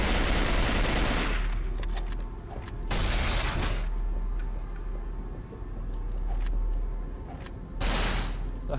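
Gunfire in the survival horror game Cold Fear comes as loud, close bursts of rapid shots, with a long volley at the start and two shorter volleys later, separated by quieter mechanical creaks.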